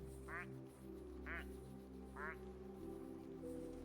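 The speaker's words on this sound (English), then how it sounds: "some of them make different quack noises" A cartoonish duck quacks three times at even intervals in the video game Daemonologie, each call short and nasal, sitting over a steady musical drone with no talking.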